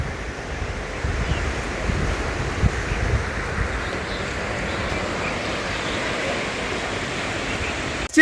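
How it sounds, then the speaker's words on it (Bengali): Sea waves breaking at Tajpur beach, a continuous loud wash of surf with heavy wind buffeting the microphone throughout. "দারুণ লাগছে গাইস ঢেউটা"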